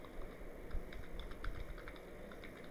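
Quiet keystrokes tapping at a steady, even pace on a computer keyboard, entering a name, faint over a low background hum.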